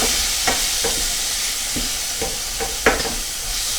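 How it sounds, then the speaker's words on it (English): Steady hiss of chicken steam-frying in a pan on top of onions, with occasional scraping stirs, close and continuous, no voices. "You want to get that chicken cooking fast and tight, so we're steam frying it"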